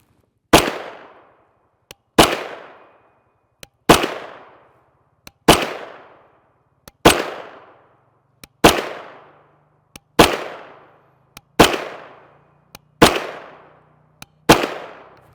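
A CZ Scorpion Evo 3 S1 short-barreled rifle with a 7.72-inch barrel fires 124-grain 9mm Geco FMJ rounds in about ten single loud, close shots at an even pace, each with a quick decaying echo.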